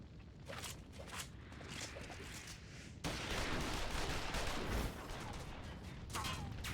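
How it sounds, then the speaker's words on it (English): Gunfire bursts in a Final Fantasy XIV video game cutscene, a dense, steady roar of shots that grows louder and harsher partway through, with a voice shouting briefly under the din. "Shoot the bastard! Shoot him!"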